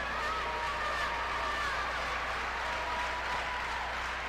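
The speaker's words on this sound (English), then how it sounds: "The crowd's trying to get IPFW going here" A crowd at a 1991 men's college volleyball match between IPFW and top-ranked USC claps and cheers in a steady, distant wash of applause filling the arena.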